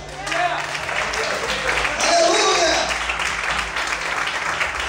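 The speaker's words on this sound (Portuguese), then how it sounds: "Aplauda a Deus" A church congregation clapping during a sermon, a dense continuous wash of hands throughout, with a voice calling out over it.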